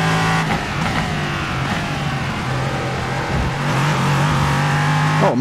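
A Ligier LMP3 race car with a 5.6-litre engine roars continuously in the iRacing sim, holding a loud, steady drone with slight pitch shifts as it revs through a lap.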